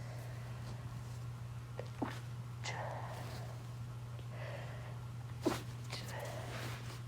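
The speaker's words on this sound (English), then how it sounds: "Excuse me, I had to sneeze." A couple of sharp sneezes over a steady low electrical hum, with breathy gasps and sniffs between them in a quiet room.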